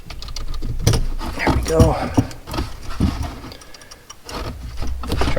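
A wrench loosens the 10mm negative battery terminal bolt on a Dodge Hellcat, with a few close metallic clicks and ticks under a man's brief spoken remark.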